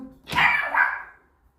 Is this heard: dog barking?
yes